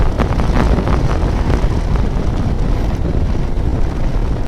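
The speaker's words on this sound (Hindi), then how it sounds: "यहाँ पे हवा काफ़ी ठंडी है।" Strong wind roars on a cold mountain road in Hunza, a loud, constant buffeting rush across the microphone with no pauses.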